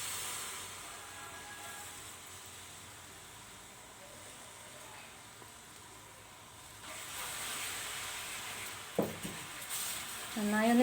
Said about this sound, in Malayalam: ഇനി എടുത്ത് വച്ചിരിക്കുന്ന ശർക്കര പാനി ചേർത്ത് കൊടുക്കാം.